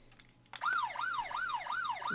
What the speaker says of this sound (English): police siren number 2